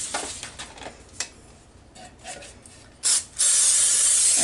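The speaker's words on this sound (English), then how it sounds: "We're going to spray our pan" Pam cooking spray hisses onto a bundt cake pan in short bursts, with light clicks and rattles of the can and pan between, ending in a long, loud continuous spray close by.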